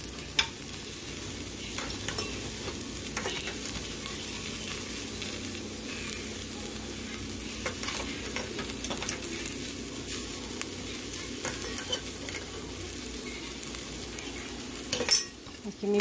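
Flax seeds being dry roasted and stirred in a pan, a steady sizzle with continuous scraping and occasional clinks of a utensil against the pan, close and unbroken throughout.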